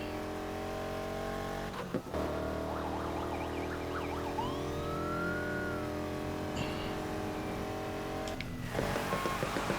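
A police car siren wails in the racing video game Need for Speed Heat, a rising and falling tone over the steady, loud drone of a car engine, with a few sharp knocks along the way.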